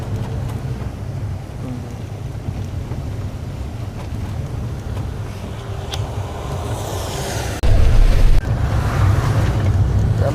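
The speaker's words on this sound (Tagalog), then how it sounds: "Yan po, malakas yung alon." Heavy surf rumbles and washes continuously with wind buffeting the microphone, swelling into a louder crash of waves near the end.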